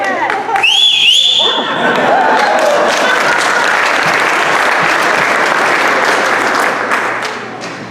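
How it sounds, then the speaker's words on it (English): At a school staff banquet honoring retirees, a woman whistles loudly in a short, bright rising phrase. A long burst of room-filling applause from the crowd follows and continues steadily to the end. "she whistles very well"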